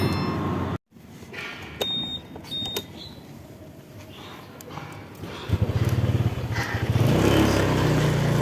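A motorcycle ride on a Gojek trip headed for Duren Sawit, with a steady engine drone and rushing road and wind noise that drops out briefly near the start, then grows a louder, throbbing engine note toward the end.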